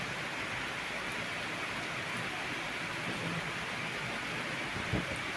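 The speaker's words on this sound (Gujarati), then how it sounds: "ભયંકર વરસાદ ચાલુ થઈ ગયો હો." Heavy rain pours down in Ahmedabad as a steady, dense hiss of falling water, with a faint thud near the end and no talking.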